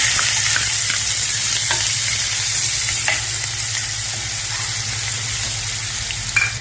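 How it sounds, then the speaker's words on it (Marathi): Onion with garlic paste, cumin and asafoetida sautéing in a pan, a loud continuous sizzle and crackle with occasional stirring clicks, close and steady throughout. "कांदा छान परतून घ्यायचा।"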